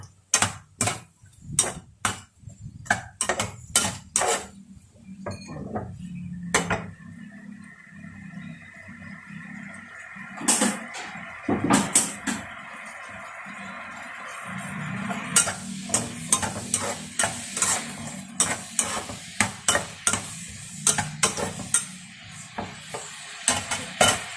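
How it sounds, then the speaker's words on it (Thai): Pork bones stir-fried with pineapple are stirred in a pan, a spatula clattering and scraping in repeated sharp knocks and bursts over a soft sizzle, heard close with no talk. "เราก็คนให้สับปะรดสุกสักแป๊บหนึ่งนะคะ"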